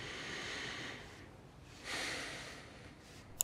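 Soft, close breaths rise and fall in slow cycles, an inhale and exhale with a faint click at the end.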